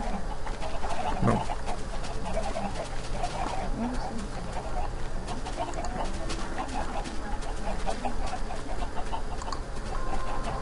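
Chickens in a blocky video game cluck and squawk in scattered bursts over a steady background hum, with players talking at times.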